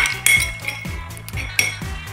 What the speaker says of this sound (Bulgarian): разбъркваме леко с лъжицата